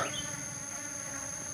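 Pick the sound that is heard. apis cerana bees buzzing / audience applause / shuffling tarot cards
apis cerana bees buzzing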